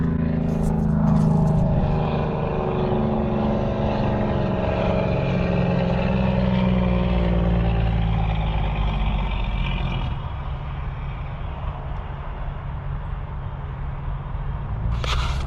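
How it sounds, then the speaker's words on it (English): A hotshot pickup truck's diesel engine running a jake brake, a loud sustained low throbbing rumble with a falling tone that eases off partway through, heard alone without talk. "Jake brake life."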